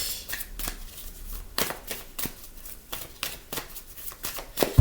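A deck of tarot cards is shuffled and cut, crisp riffling bursts repeating at a steady rhythm, close and clear with no talking.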